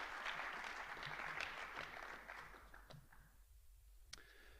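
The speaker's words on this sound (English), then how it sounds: "I'd like to see a round of applause right now for these guys" Seniors are applauded at a high school football awards night, a faint, distant patter of many hands clapping that thins out and fades within a few seconds.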